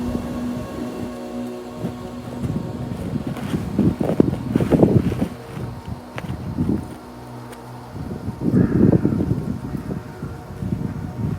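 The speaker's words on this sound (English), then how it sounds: "Quite windy today." Wind gusting over the microphone beside an old river arm, a steady low rumble that swells in strong bursts around a few moments, constant throughout with no voices.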